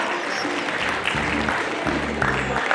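An audience at an evening Diwali cultural program claps in a steady, moderate burst of applause, heard from the middle of the crowd with faint background music tones.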